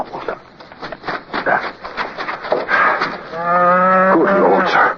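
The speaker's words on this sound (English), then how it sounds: "It's a cow." A single cow moos loudly and close by, a drawn-out low call near the end, after a stretch of quieter murmuring voices, at night during a military raid on a fort in Haiti.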